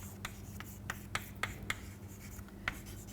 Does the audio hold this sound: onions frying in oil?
no